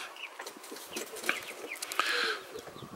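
Hen with small chicks clucking and peeping nearby, short soft calls scattered throughout with a few sharper chirps, close and moderately quiet.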